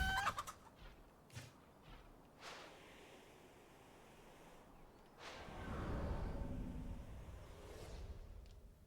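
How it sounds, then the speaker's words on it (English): Chickens cluck and squawk in the side-scrolling beat 'em up Absolum, brief bird calls near the start followed by louder scuffling, hit-like noise, all fairly quiet with no talk. "Everybody loves beating the hell out of chickens."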